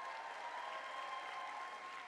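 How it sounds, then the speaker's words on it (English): At a Boston Arts Academy graduation ceremony, the audience gives a steady round of applause for the graduation speaker, a faint, even wash of many clapping hands heard from a distance. "Have a round of applause for her."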